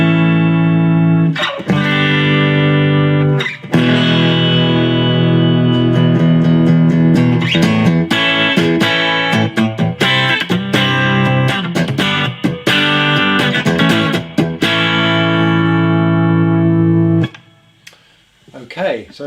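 Clean electric guitar on the bridge pickup of a scratch-built guitar, bright and twangy, playing a riff of single notes and chords close up, ringing out before fading near the end.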